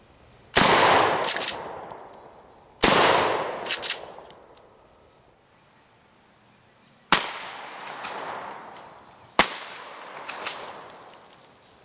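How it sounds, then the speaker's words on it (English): Four loud, sharp 12 gauge shotgun blasts firing 00 buckshot, regular and low-recoil loads, into plywood, each with a ringing decay, spaced a few seconds apart outdoors. "We're gonna fire buckshot into one and then the low recoil buck into another piece of wood."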